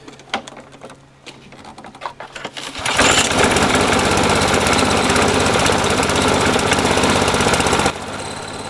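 Petrol engine of an Efco lawnmower runs loud and steady after a quieter start, with a heavy rattling vibration as the whole machine shakes, then drops to a lower, steadier level near the end.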